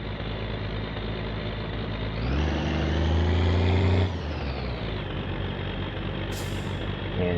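A truck in the My Summer Car driving game towing another vehicle on a tow rope, its engine droning steadily and rising in a loud rev midway before settling back, with a short hiss near the end.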